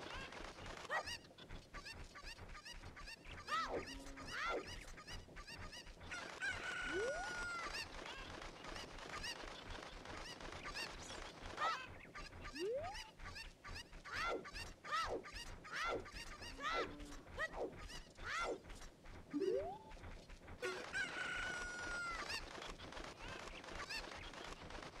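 Chickens in The Legend of Zelda: Ocarina of Time give repeated squawking, honk-like calls and rising cries over a busy, rhythmic game soundtrack with quick tapping beats. The calls stay fairly faint throughout.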